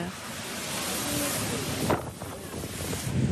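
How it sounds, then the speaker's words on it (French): Intense rain and violent wind gusts lash Paris during a storm, a loud continuous rushing roar that swells and buffets in gusts. "Et une pluie intense s'abat pendant 15 longues minutes sur la capitale."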